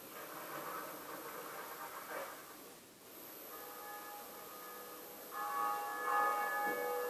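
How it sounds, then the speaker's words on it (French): A large bell rings in the Dark Souls video game, its sustained metallic tones resonating faintly over a low ambient hum, with fresh strikes swelling the ringing partway through. "Et voilà, vous allez sonner la première cloche."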